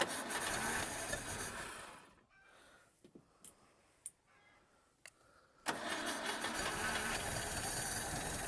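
A Moskvich 408 engine runs without throttle, rough and loud, cutting out mid-clip to near silence with a few faint clicks before catching and running steadily again.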